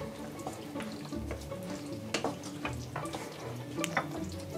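Stirring a pumpkin and chocolate mixture in a pan, with soft repeated scrapes and clicks of a spatula over a steady gentle sizzle, close and moderately quiet.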